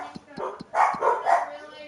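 Dogs in the video game Farming Simulator 25 give a few short, quiet yips, with a voice speaking over and alongside them.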